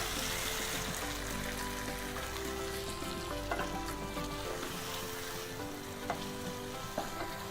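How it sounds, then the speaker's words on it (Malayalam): Vinegar mixture for orange peel pickle bubbles and sizzles in a pan on the stove, a steady close crackling hiss with occasional louder pops and a low hum beneath. "ഒന്ന് തിളക്കട്ടെ കേട്ടോ."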